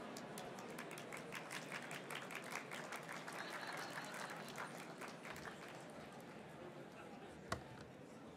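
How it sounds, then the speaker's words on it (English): A faint, distant patter of audience applause fills a hall at a provincial government luncheon address, steady throughout, with a single sharp knock near the end and a voice heard through it. "I'd like to thank my table for the applause."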